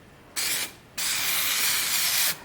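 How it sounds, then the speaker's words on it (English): Two bursts of spray adhesive hissing close by onto quilt batting, a short one and then a longer steady one lasting over a second. "So I'm going to lightly spray"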